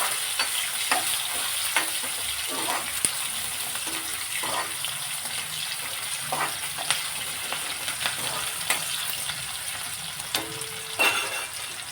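Sliced onion pieces fry in a pan for a dal dish, giving a steady low sizzle broken by occasional clinks and stirring sounds, with a faint trickle of water at times.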